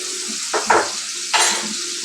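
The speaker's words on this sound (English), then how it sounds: "Now I'm going to add some minced garlic." Minced jarred garlic sizzles in melted butter, a steady close hiss broken by two or three brief scraping stirs.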